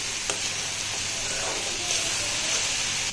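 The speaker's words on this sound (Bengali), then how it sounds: "ভালো করে তৈলের ভিতরে ভাজি করে নিতে আসি" Red lentils frying in hot oil with turmeric and salt, a dense continuous sizzle with occasional spatula scrapes, close and loud.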